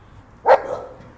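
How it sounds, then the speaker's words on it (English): A single sharp dog bark rings out at mid distance in a quiet outdoor setting, followed by a brief fading echo. "they're everywhere, those dogs."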